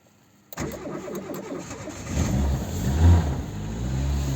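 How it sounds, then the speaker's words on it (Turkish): A car engine cranks and catches in freezing weather around minus four or five degrees, then settles into a loud, close, rumbling idle with a slight rise in revs. "Şimdi arabamızı bir çalıştıralım."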